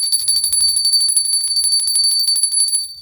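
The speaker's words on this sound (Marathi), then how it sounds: "गरुड घंटीचा घंटीनाद पण तसाच मोठा आहे" A brass Garuda hand bell rings rapidly and continuously, bright metallic tones shimmering throughout before trailing off at the end.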